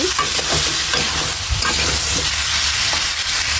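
Mango pickle with its skins on fries and is stirred in mustard oil with mustard paste, giving a steady, close sizzle with repeated scraping stir strokes throughout and no voices.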